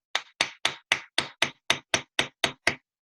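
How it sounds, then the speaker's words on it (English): Eleven evenly spaced hammer blows strike metal during chasing and repoussé work, crisp and loud with a steady rhythm, each ringing briefly before the next. "I'm hitting this harder than I normally would because I don't have a heavier weight hammer"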